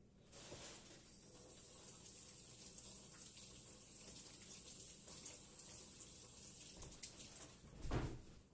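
Water from a tap runs steadily as someone washes their hands, a continuous close splashing hiss with a brief louder gush near the end.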